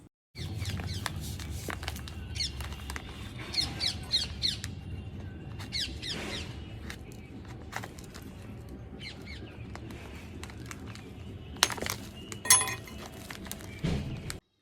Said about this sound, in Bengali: গাছগুলো বসানোর সময় আমার কানে এত সুন্দর সুন্দর পাখির ডাক আসেনি